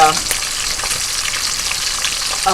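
Crispy bacon frying in a pan, a loud, dense, continuous crackling sizzle with bright popping spatters throughout.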